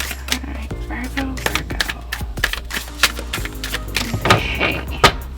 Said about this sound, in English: Let me just give this a quick shuffle